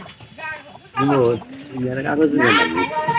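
Pigeons cooing in soft, throaty repeated calls, fairly close, with a few faint chirps in the background.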